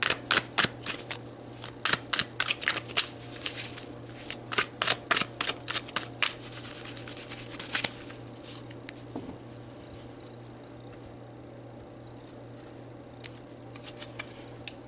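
A deck of tarot cards is shuffled close up, with a run of quick riffling bursts and soft slaps of cards in a fast rhythm that thins out into sparse light handling and near quiet.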